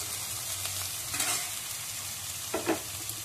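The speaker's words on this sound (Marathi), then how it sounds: "आता याच्यात मी घालते बारीक चिरून घेतलेली शिमला मिरची घातली आहे" Finely chopped capsicum stir-fried with vegetables for Chinese-style veg momos, giving a steady low sizzle with a few scraping stirs of the spatula partway through, fairly quiet and with no talking.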